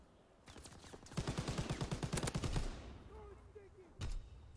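Rapid automatic gunfire from Call of Duty WW2 crackles in a fast burst of evenly spaced shots, followed by a lone loud shot moments later.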